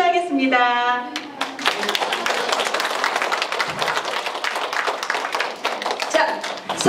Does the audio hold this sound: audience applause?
yes